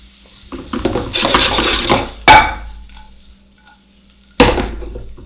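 White shrimp cooking in a skillet on a hot plate for scampi tacos: a burst of busy sizzling and scraping as the pieces are stirred, then two sharp metallic clanks of a utensil against the pan, close and fairly loud.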